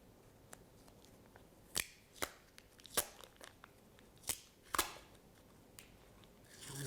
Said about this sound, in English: I'm going to use tape to roll to the end of them